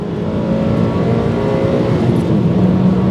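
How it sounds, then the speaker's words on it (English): A 2007 Suzuki Swift Sport's four-cylinder engine revs hard and steadily, a loud continuous buzzy drone holding high RPM throughout with no talking. "this sort of a typical strange sounding 4-cylinder engine"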